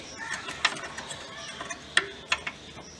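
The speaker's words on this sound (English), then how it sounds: "fully loose this nut so that it can, these hooks can be easily taken out" A ratchet wrench loosening the battery clamp nut on a Datsun Go+, heard as a few sharp, close metallic clicks spread unevenly over a quiet background.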